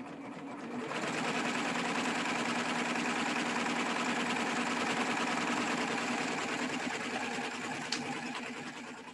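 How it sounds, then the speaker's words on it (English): An 8-thread serger stitches a pin tuck in a steady, loud, continuous run that starts abruptly about a second in and holds a fast even whir close by until the end, with no talking. "And then all you do is you just start stitching."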